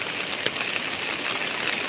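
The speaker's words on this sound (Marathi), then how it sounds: "खतरनाक पाऊस आहे खतरनाक एकदम सकाळपासून चालू आहे" Heavy monsoon rain in Sindhudurg in the Konkan: a steady, close, broadband rush of downpour with faint scattered drop hits and no talk.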